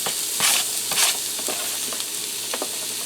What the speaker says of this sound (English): we're going to saute some onion and garlic in here for a few minutes